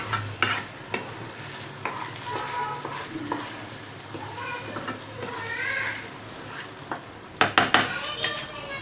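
A spoon stirs semolina kesari in a pan, with soft scraping strokes and faint sizzling, occasional sharp clinks of utensil against metal, and a cluster of quick knocks near the end.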